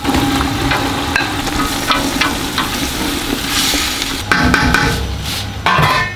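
Chopped celery sizzles and crackles steadily in a hot pan for bolognese sauce, with a few stirring scrapes and clacks breaking through the continuous frying hiss.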